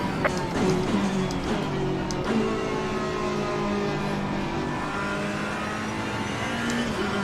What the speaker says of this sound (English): he is just powering past me